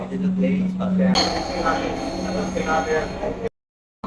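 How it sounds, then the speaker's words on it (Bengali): A Bangladesh metro rail train runs with a steady rumbling roar and rattling from the wheels, loud and continuous, briefly cutting out near the end. "ও, বাংলাদেশের মেট্রো রেল।"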